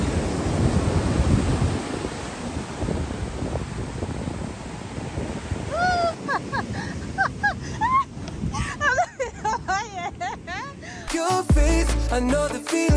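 Ocean waves roll in at Kokrobite Beach, Ghana, a loud washing surf with wind rumble for several seconds before voices and then music take over.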